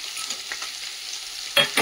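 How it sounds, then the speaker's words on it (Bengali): Brinjal added to a pan of hot oil with already-fried greens, a soft continuous sizzle followed by two sharp bursts of crackling as the pieces hit the oil. "এর মধ্যে যে বেগুনটা দিয়ে দিচ্ছি।"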